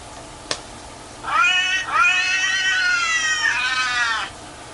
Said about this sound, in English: Antonin Scalia's cats? And they're there together, apparently, because I hear, I hear a chorus.